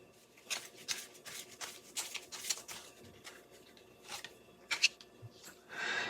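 Tarot cards are shuffled and handled for a luck advice reading, giving a series of soft, quick riffling and patting bursts, close and quiet, with brief pauses between them.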